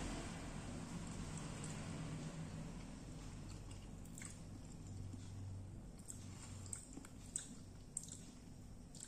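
Close chewing and biting of a soft Pakchong 33 avocado, wet squishy mouth sounds repeating over a steady background hiss with a few sharper bites near the end.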